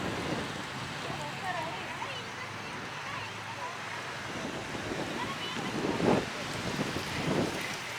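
Strong autumn wind on a mountain overlook in Great Smoky Mountains National Park buffets the microphone in a constant roar, with gusts swelling louder toward the end and faint voices underneath.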